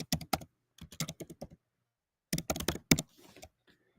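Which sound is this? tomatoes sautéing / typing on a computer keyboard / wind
typing on a computer keyboard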